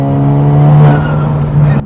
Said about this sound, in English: This turbo, it sounds like I've got like a supercharger in here or something.